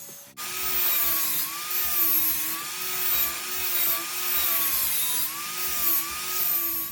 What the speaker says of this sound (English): You want to grind it till it's clean